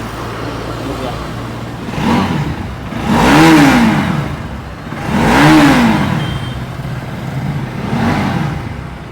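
A used motorcycle engine idling, then revving up twice in strong surges with a smaller rev after, close by, with a voice briefly heard, in Batticaloa, Sri Lanka.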